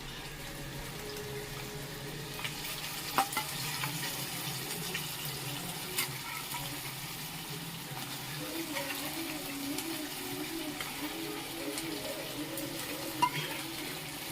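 Sweet sakkarai pongal is stirred in a pan after ghee-fried raisins are poured in, giving a steady, soft scraping and wet sizzling texture that runs without pause through the whole stretch, with no talking.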